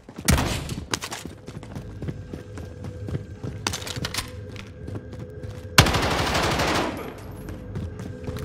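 Gunfire on a shooting range, several bursts of loud, close shots with rapid cracks and brief pauses between strings.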